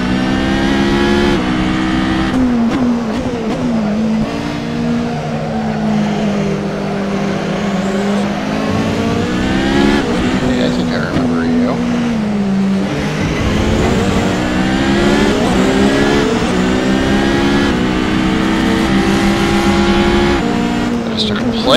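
Toyota TS040 race car engine in a racing video game at Spa howls loudly and continuously, its pitch climbing and dropping through gear shifts while someone talks over it.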